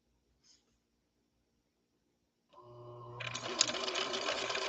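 A 1970s Viking Husqvarna Model 6030 sewing machine starts up after near silence and sews a stitch, a close, steady mechanical whir that grows louder and keeps running to the end.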